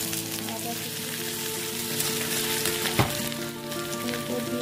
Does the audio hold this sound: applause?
no